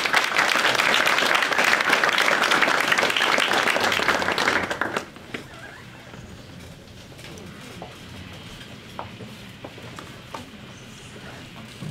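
Loud, dense audience applause at the MTSU Center for Chinese Music and Culture grand opening, welcoming three School of Music performers; it holds steady for about five seconds, then cuts off into quiet room tone with faint scattered sounds.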